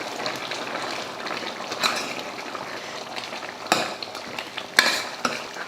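Roasted, powdered masala being stirred into boiling mutton curry for a Bakrid meal, with a steady bubbling sizzle, soft scraping of a spoon and a few sharper clinks against the pot, with no voices.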